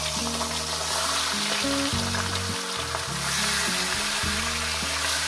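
Rohu fish heads fry in hot oil, a dense continuous sizzle heard close up, with background music playing throughout and no talk over it.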